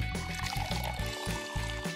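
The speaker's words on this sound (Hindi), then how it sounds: "पानी डालें," Water pours into a plastic cup in a steady, close, continuous splashing stream with no talk.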